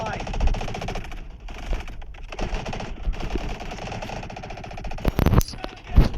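Rapid bursts of gunfire in a Minecraft game session, sharp clustered shots near the end standing out over a dense bed of game sound and talking voices.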